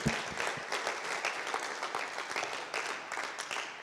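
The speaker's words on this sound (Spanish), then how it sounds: "¿Cuántos le dan un aplauso al Señor por eso?" A church congregation at a Wednesday service applauding, a dense, steady clapping from many hands that lasts the whole time.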